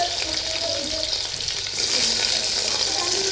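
Onion dropped into hot oil already seasoned with cumin, mustard seeds and garlic, frying for khichdi: a steady, loud sizzle and crackle throughout, brightening after a stir partway, with no voices.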